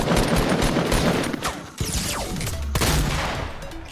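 Dense gunfire crackles through a battle royale video game fight, with overlapping rapid bursts and booming shots filling the whole stretch loudly and continuously, plus a few sharp impacts.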